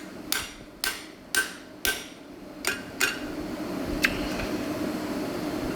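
A hammer strikes a hot punch driven through steel at a forge, six sharp ringing blows in a steady rhythm followed by a lighter tap, close and loud over a low background hum.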